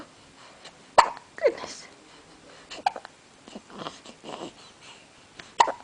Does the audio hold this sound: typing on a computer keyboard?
no